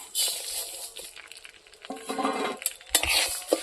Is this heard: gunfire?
no